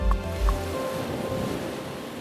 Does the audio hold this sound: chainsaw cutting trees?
no